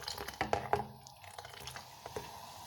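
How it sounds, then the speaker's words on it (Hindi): Kashmiri pink tea boiling in a pot while being ladled and tossed to aerate it, brief liquid splashes and drips near the start, then a soft bubbling simmer, with no talking. "इस तरह इसको उछालते रहना है और गरम होता रहे और चाय बनती रहे।"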